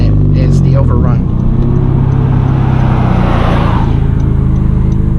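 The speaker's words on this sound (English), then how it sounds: "the overrun is really loud" Loud engine overrun from a 9th-generation Honda Civic Si with a muffler delete, a deep rumbling exhaust drone with crackling, sustained close and loud throughout, with speech-like voices over it.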